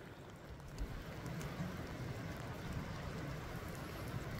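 Rain falling outdoors in a village setting, a soft even hiss with scattered faint patter and low rumble, steady and fairly distant for the whole stretch.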